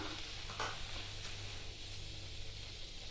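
Chili, turmeric and coriander powders frying in a pan for crab curry, a steady low hiss and sizzle with a soft stir near the start, constant and faint with no talking.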